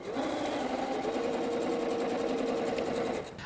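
A sewing machine stitching quilt pieces for a wall hanging, running in one continuous fast steady whir close by, stopping abruptly just before the end.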